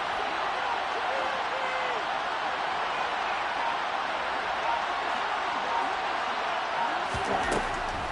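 A stadium crowd in the Madden football video game roars in a dense, steady wash of cheering that fills the whole stretch at constant loudness, building ahead of a big third down.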